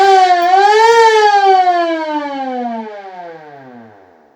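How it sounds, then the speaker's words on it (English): A 1929 fire engine's mechanical siren winds up to a loud rising wail, holds briefly, then slowly sinks and fades, heard alone without talk. "What about a siren? Because every fire truck needs a siren."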